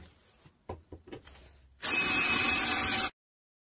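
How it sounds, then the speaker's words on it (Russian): A power drill with a 5 mm bit boring through two stacked metal plates at once with lubrication: after a few faint knocks and handling sounds, a loud, steady, high whining grind runs for just over a second, then stops abruptly. "И будем сверлить прям сразу в две пластины."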